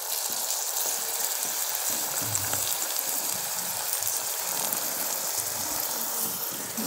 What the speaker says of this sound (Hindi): जो आलू हमने बॉईल किए थे ना वो डाल दीजिए इसके अंदर आप